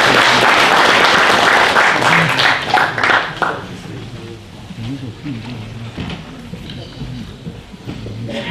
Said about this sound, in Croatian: Aplauz za njih i hvala.